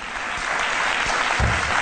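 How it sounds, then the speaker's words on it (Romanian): Studio audience applause during a Romanian comedy sketch show, a dense, steady burst of clapping filling the room with a faint voice underneath. "Mai nu mai aplaudați"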